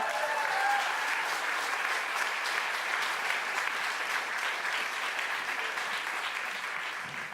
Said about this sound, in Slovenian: še en aplavz za Katjo Brcar.